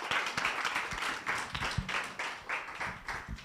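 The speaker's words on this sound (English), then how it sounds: "give a big applause to Melina, Virginia, and Marina." A conference audience applauds panelists at a Nordic business and policy event: sharp, close individual hand claps in an uneven patter, fairly quiet, from a modest crowd.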